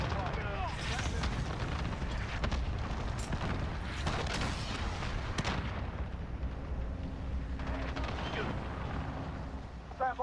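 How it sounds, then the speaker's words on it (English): Cruise missile strike in a Call of Duty Modern Warfare Hardpoint match, with a rolling series of heavy booms and crackling blasts that goes on for several seconds, mixed with gunfire and voices in the background. "Allied cruise missile."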